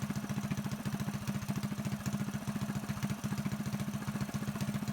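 Predator 224 mini bike engine with a Mikuni VM22 clone carburetor set lean, idling in a steady, rapid low thumping putter, close and even throughout.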